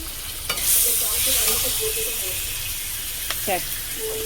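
Spice masala and tomato frying in a pan give a loud, steady sizzle, broken by a few sharp clatters of a spoon stirring.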